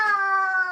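A voice imitates a chicken in one short, high, sustained squawking note, close and alone.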